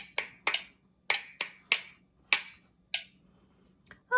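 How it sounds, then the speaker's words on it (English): Sharp claps and metronome clicks from a sight-reading exercise, about nine distinct close, crisp hits in an uneven rhythm with small pauses between them, heard alone with no talking. "I can hear the metronome and myself clapping."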